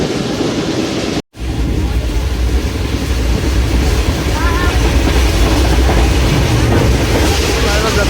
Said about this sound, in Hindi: सिर्फ ज़बरदस्ती स्मूथ ट्रैक साउंड आ रहा है